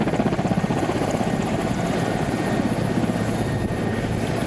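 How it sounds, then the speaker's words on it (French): A MONUSCO helicopter landing at Goma airport, its rotor thumping steadily and loudly with a continuous engine roar throughout, with no voices. "C'est le bruit de cet hélicoptère de la MONUSCO qui confirme"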